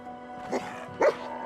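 Dogmeat, the companion dog in Fallout 4, gives two short barks in a row, the second louder, over a faint steady game background hum.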